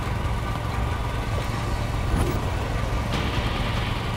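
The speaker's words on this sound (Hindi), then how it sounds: "प्लीज अपनी बाइक बंद करो" A motorbike engine idles close by in a steady, unbroken drone, loud and constant, with no speech heard over it.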